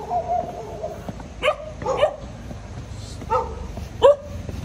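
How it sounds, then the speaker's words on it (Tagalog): A dog barks on a road near the Banaue Ifugao rice terraces, four short, separate barks spaced across a few seconds, fairly close and clear over a quiet background. "May aso sa kabilang dulo."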